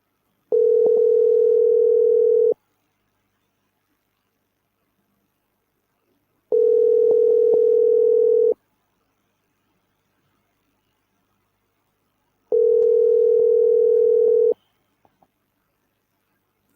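Telephone ringback tone while a call is placed: three long, steady, even tones, each about two seconds long, separated by roughly four seconds of silence, clear and alone.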